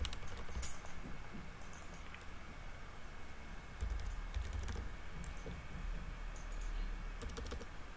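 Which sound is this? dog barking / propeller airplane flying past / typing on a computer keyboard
typing on a computer keyboard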